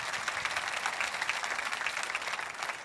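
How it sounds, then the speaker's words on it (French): Men in a church congregation applaud during an Easter resurrection sermon, a soft, dense patter of many hands clapping steadily at a distance for a few seconds. "Que pas seulement des femmes, que les hommes applaudissent aussi."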